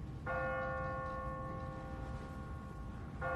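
A church bell in The Walking Dead video game tolls two clear, ringing strikes, the first sustained for several seconds before the second begins, heard at a distance over a low background rumble.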